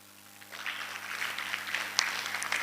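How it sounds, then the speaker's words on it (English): A round of applause breaks out for a hackathon team, SunnyWise Technologies, taking the stage at a sanitation project event, rising from quiet into moderate, steady clapping that stays fairly distant and thin. "with a round of applause"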